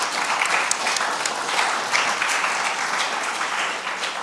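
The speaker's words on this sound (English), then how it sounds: "so if you could give them a round of applause" An audience applauds the speakers at a UK-EU relations conference, steady dense clapping from a crowd filling the room without a break.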